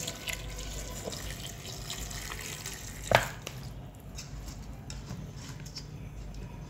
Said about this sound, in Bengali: দিয়ে দিচ্ছি পরিমাণ মতো পানি।